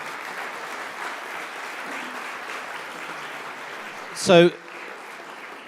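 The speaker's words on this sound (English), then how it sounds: "round of applause." A workshop audience breaks into a short burst of applause that follows a spoken introduction and fades quickly, with speech in the room before and after it.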